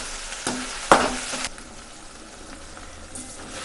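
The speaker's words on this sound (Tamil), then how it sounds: "இப்போ இது நல்லா வதங்கட்டும்." Tomatoes sautéing in oil in a pan for mutton gravy, giving a steady close sizzle with a couple of brief louder stirring bursts near the start before settling into a soft even frying hiss.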